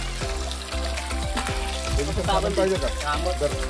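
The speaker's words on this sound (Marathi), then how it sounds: "हे बघा इथून पाणी येते, इकडून सगळं डोंगरातनं पाणी येतं" Clear mountain spring water flowing down from the hills near a forest village in Mahabaleshwar, a close, steady hissing rush with no one speaking.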